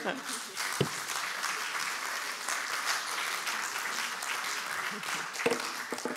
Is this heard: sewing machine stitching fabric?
no